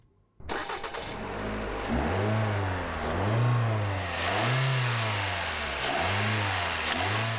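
A 2020 Toyota C-HR with a 2-litre four-cylinder engine and continuously variable transmission starts up and pulls away, its engine note rising and falling in smooth repeated swells, moderately close and alone without talk.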